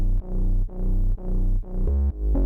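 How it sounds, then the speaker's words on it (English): Very dark synth sub bass with little high end, repeating thick low notes in a steady pulse with brief gaps between them, ending on a pitch-bent note, loud and heard alone. "It's just a very dark sub bass."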